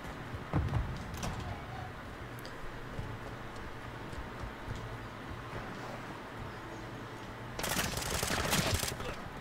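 Bursts of automatic gunfire in Call of Duty: Modern Warfare 2: a couple of short shots early on, then a loud, sustained volley near the end over a steady background.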